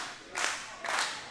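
A wrestling show crowd claps in two short, faint bursts of rhythmic clapping, heard from a distance in a quiet room.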